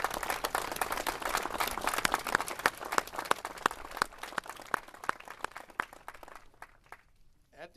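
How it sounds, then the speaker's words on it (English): Applause for volunteers at a fire training center dedication in Pike County, a steady crowd of clapping with sharp individual claps that fades out toward the end. "a round of applause for all your volunteers"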